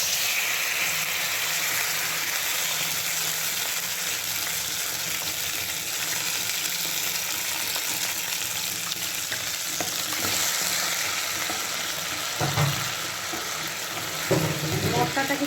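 Masala spices frying in hot oil in a pan for doi katla, a Bengali fish curry, giving a steady close sizzle throughout with a few brief stirring clatters near the end and faint talk underneath.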